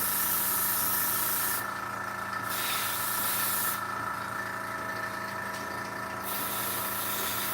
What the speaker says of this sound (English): This is Tamiya Flat Green. That's what I use. You see it sprays really good.